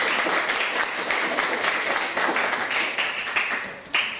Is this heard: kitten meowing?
no